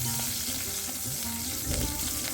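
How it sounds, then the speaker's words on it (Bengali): Garlic and green chili fry on low heat in a little oil in a wok, giving a steady, moderate sizzle with soft bubbling and occasional light stirring scrapes. "কড়াইতে তেল একটু ছিল, তার মধ্যে আমি রসুন আর কাঁচা লঙ্কাটা দিয়ে দিলাম"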